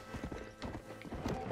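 Horse hooves clip-clopping in the Western video game Red Dead Redemption, a quick rhythmic series of hoof beats, moderately close, over faint ambient game sound.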